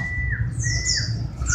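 A small bird, likely a local pleci white-eye, chirps and squawks in high, sliding calls near the old Temanggung railway station, close and clear over a low steady background hum.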